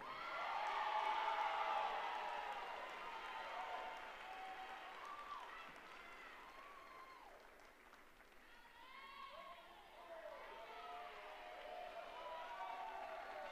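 Faint, steady applause from a gymnastics meet audience honoring uneven bar co-champions, a distant wash of clapping with scattered whoops, under an announcer's voice over the arena sound system.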